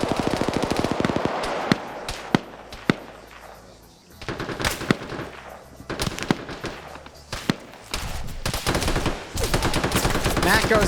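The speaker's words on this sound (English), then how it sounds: "He has the machine gun. Still has that PKP." A PKP machine gun fires in long, rapid bursts during an Arma PvP match, with dense cracking volleys and a brief lull in the middle before firing resumes, loud and close, mixed with other distant gunfire.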